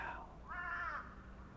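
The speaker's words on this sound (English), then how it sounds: "Sounds like a crow." A crow in rural Japanese countryside gives a couple of hoarse caws from a moderate distance, the second longer and stronger, over faint outdoor background.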